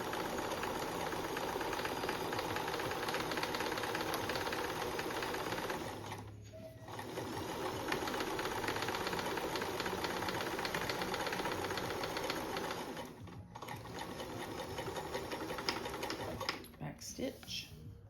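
A sewing machine stitches a zippered seat cushion cover, whirring in long continuous runs that break off briefly twice before a short final burst, close and fairly quiet.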